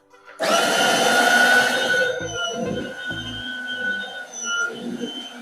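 A PCL 6 terrace cleaner with four spinning rollers, used to wash a terrace with water, switches on abruptly with a loud, close motor whir that settles into a steady hum with a few low thumps.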